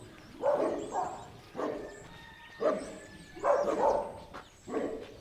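A farm dog barks outside a small rural shop with post office boxes in the Tankwa Karoo, South Africa, giving about five separate bark bursts at a moderate distance, with no talk over them.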